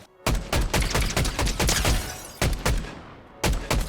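Rapid bursts of Fortnite gunfire ring out in the video game, several loud volleys with short gaps between them, close and punchy, ending with one more burst.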